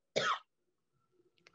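A single harsh cough, close and fairly loud, followed by quiet and a few faint small sounds.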